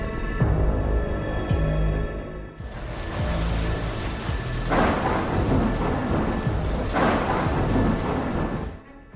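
Heavy rain pours steadily in Uttarakhand while thunder rumbles and cracks loudly overhead, with two strong surges of thunder rolling through the downpour and no voices.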